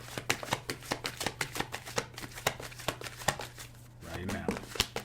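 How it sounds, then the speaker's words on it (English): A deck of tarot cards being cut and shuffled by hand, a quick run of crisp riffling snaps and taps close to the mic, with a low steady hum underneath and a brief rustle of cards near the end. "We're going to cut these cards because this reading wants to come out now."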